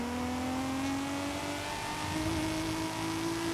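A modified inline-six twin-turbo car engine with race turbos, bigger intercooler, mid-range exhaust and big intake in Forza Horizon, holding a loud, sustained rev with a slowly rising pitch and continuous harmonic drone.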